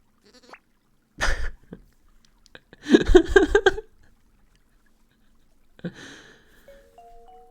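A sheep bleats in a video game, a loud rough bleat with a short buzzy call before it, then a fainter bleat and a few rising electronic beeps near the end.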